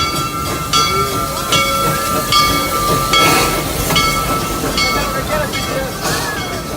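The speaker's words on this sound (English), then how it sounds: "Here comes the other train, we're gonna wait. Double train, guys." A Serengeti Express park train rolls past with rhythmic clacking, hissing and metallic squeals, steady and fairly close, while people talk over it.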